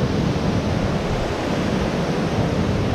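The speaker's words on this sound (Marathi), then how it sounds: "आवाज कमी देत नाही कारण पाण्याचा आवाज खूप जास्त आहे इथे" The Pashane village waterfall near Vangani, with rushing water roaring in a dense, continuous wash of noise, loud and close, with no other sounds standing out.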